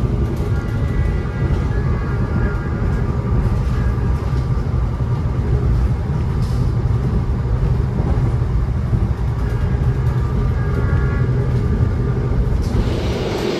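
A Joglosemarkerto economy-class train from Yogyakarta to Cilacap rushes along a single track at about 100 km/h, a loud continuous rumble of wheels and carriage noise with rattling and clatter from start to finish.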